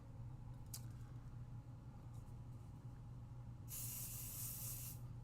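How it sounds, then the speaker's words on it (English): A spray bottle lets out a single long, close hiss of mist after a stretch of faint low hum, the burst lasting well over a second with no one talking. "Spray it one more time."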